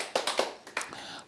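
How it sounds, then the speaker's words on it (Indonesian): A church congregation claps hands in a few sharp, scattered bursts, fairly quiet and irregular over a little more than a second. "Tepuk tangan."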